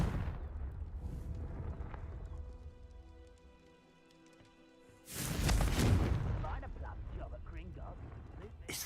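Confringo fire spell blasting in Hogwarts Legacy, a sudden heavy booming explosion with a rumbling, crackling tail after a quieter stretch, with game ambience and a voice talking around it.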